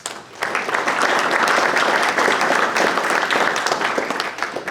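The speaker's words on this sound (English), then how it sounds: "Please give them a nice round of applause." Steady, loud applause from a large audience at an agribusiness event honoring sponsors, dense clapping filling the room continuously with no break.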